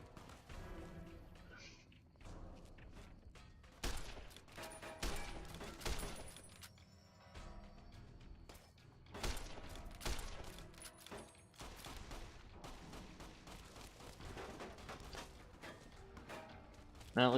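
Video game gunfire, rapid volleys and single cracks, comes in bursts across a busy, fairly quiet soundscape, with a voice talking at times.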